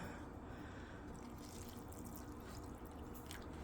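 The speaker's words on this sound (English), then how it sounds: "get some water and fill this thing up" Water poured from a jug into a microwavable mac and cheese cup, a soft continuous trickle and splash that stays fairly quiet and even, with no voices.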